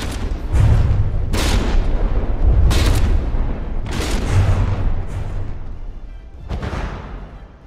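Turret cannons fire in a video game tank battle: a series of about six heavy booms, each roughly a second apart and decaying into rumbling tails, loud and close.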